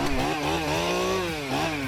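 A high-powered chainsaw cuts into a tree, its engine revving loud and close in a steady whine that rises and falls in pitch as the blade bites through the wood.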